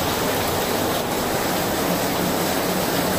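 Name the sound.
water rushing into a sewer during heavy rain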